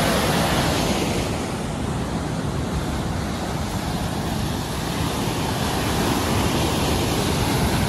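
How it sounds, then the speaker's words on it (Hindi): A loud, constant roar of fast-rushing water in the Indira Gandhi Canal fills the whole stretch, steady and unbroken, with no voices. "वहाँ आवाज़ साफ नहीं आ रही क्योंकि पानी की बहुत आवाज़ है वहाँ पे।"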